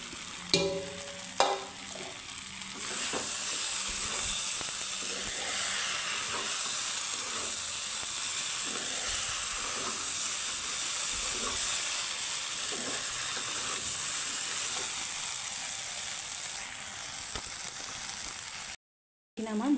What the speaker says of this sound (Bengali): এখন আমি মশলাটা কষানো হয়ে গেছে কচু আলুর সাথে, এখন দিয়ে দিব জল, দিয়ে দিব বড়াগুলো।